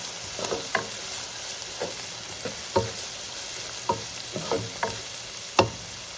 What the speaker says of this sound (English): Let's add our Dash seasoning. Give that a stir.